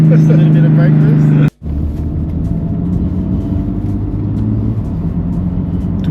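A single-turbo BMW F80 M3 of about 700 hp holds a loud droning rev against the brakes, cuts off abruptly, then settles into a lower rumbling idle, with voices in the background.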